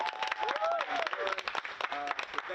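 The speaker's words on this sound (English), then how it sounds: "clap your hands for yourself, man." Crowd at a Saturday gathering in Concord, North Carolina, clapping and cheering for themselves, a brief burst of dense applause with whoops and a voice rising over the claps.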